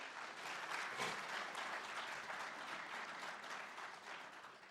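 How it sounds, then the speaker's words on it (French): An audience in a national assembly chamber applauding, a dense, even wash of clapping from many hands that holds steady and tapers slightly at the end, heard at a distance and fairly quiet. "Je vous prie de les applaudir."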